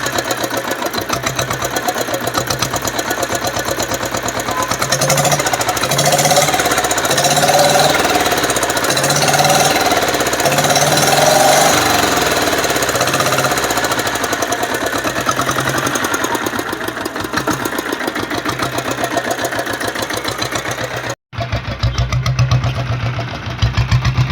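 Old company diesel Bullet motorcycle engine idling with a steady, loud thumping beat that holds close and unbroken throughout, no voices over it.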